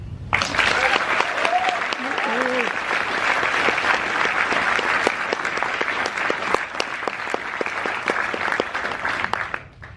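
At a university graduation ceremony, an audience breaks into loud, continuous applause lasting several seconds, with a brief voice near the start before the clapping fades out at the end.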